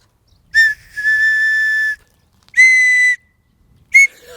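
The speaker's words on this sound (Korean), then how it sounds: "호루라기였습니다" An unusually shaped whistle gives three blasts: a short chirp running into a long held tone, a second medium blast, then a brief final toot, each one bright and loud with clear silence between.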